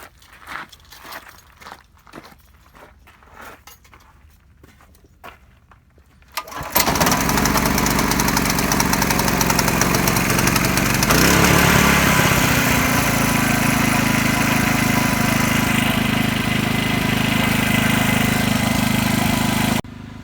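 A Ryobi RYI4022X inverter generator is pulled over with a few rhythmic cranks, fires up and keeps running, its close, steady engine drone continuing without a break.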